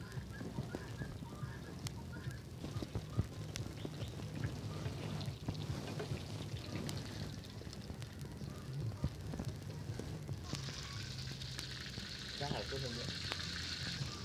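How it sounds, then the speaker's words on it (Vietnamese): Dồi sausage fries in a pan over low heat, a steady soft crackle and sizzle running throughout, with a brighter hiss rising near the end and faint background noise. "rán dôi phải rán nhỏ lửa nhá, thì nó sẽ vàng và rất là ngon"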